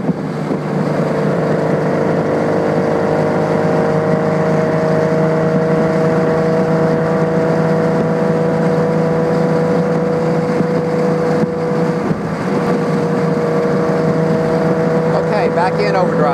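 A 1972 Triumph TR6 engine drones loudly and steadily at high revs, the pitch shifting slightly as it comes out of overdrive, sustained and close throughout.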